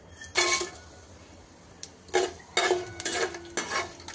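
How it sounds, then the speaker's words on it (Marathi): Cinnamon leaves and whole spices drop into hot oil in a pan while chicken biryani is cooked. Short bursts of sizzling and crackling mix with metallic clinks of utensils on the pan, with quiet pauses between them. "तेल गरम झालेलं आहे, हे दालचिनीची पाने टाकते यामध्ये आणि आपले खडे मसाले सगळे"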